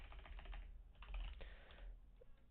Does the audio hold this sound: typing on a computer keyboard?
yes